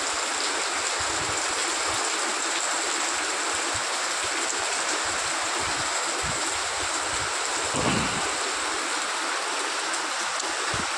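Floodwater pouring through a town in Dhanbad, India, during days of continuous rain, a loud, steady rushing roar with a constant wash of noise that does not let up, no voices heard.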